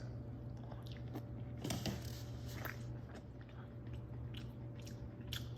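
Chewing a bite of charcoal-grilled chicken from a Char-Griller Patio Pro charcoal grill and smoker, soft moist mastication and faint crunches repeating close to the mic over a steady low background hum, with no talking.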